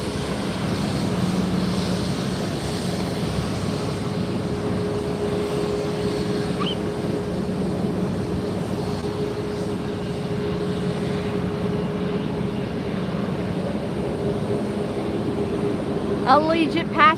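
An Allegiant jet taxis past at Fort Lauderdale airport (FLL), a steady, broad engine roar and whine holding at a constant level for the whole stretch, with a voice faintly audible over it.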